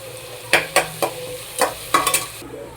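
A spoon scrapes and clinks in quick, uneven strokes as raw mango with turmeric and salt is stirred in a pan, over a soft sizzle of frying.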